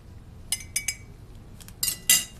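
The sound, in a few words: spoon clinking while measuring soup mix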